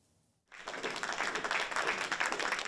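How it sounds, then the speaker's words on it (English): Public applause outside the courthouse in Avignon, a crowd clapping steadily and briskly after a quiet moment, sustained and fairly distant. "Gisèle Pelicot arrived at the courthouse in Avignon to public applause"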